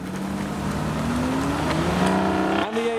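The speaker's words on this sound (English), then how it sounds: "Moving on to the Aston Martin DB9 Volante," A dark blue Aston Martin DB9 Volante pulls away from a classic car meet, its engine note droning loud and close, then rising in pitch as it accelerates, with a brief gear change near the end.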